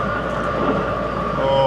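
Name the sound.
fast train passing on the track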